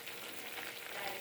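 Beefsteak sizzles steadily in a hot pan while being stirred, a soft continuous frying hiss with faint scraping, quiet and close.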